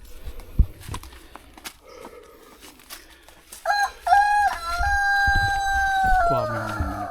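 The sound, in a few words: chickens and rooster crowing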